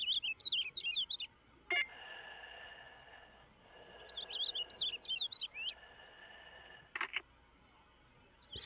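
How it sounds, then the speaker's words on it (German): Small bird chirping in the horror game Nevermind, bursts of quick bright tweets that recur between a low steady hum, with a couple of sharp clicks. "Und du bist immer da, kleiner Vogel."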